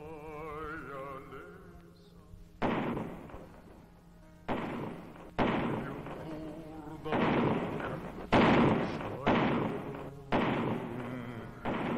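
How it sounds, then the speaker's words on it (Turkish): A series of heavy booming cannon blasts from ships in a naval battle strike at irregular intervals, each loud burst followed by a short rumbling decay. "Önce top atışlarıyla saldırdılar birbirlerine."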